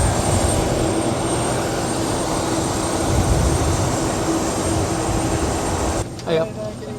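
Aircraft engine droning steadily at an airport while passengers board a flight to Amsterdam Schiphol from Teesside, a loud continuous broadband roar that drops away sharply near the end, leaving quieter background.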